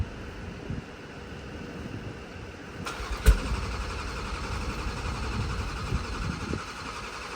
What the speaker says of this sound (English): we about to do a cold start right now